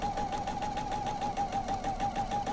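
A sewing machine stitches quilt pieces at a 2.0 stitch length, giving a steady, fast, rhythmic whirring hum with regular needle pulses, close up and running alone without talk.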